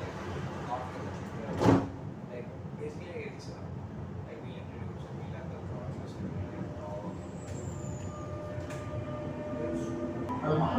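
Steady low rumble and rattle of a Dubai Metro Green Line train in motion, with a brief louder clunk early on and continuous background noise throughout.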